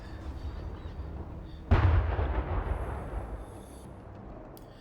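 A single heavy self-propelled artillery gun blast in a tank video game, a sudden loud boom that rolls off into a long fading rumble, alone, with a faint high tone in the background.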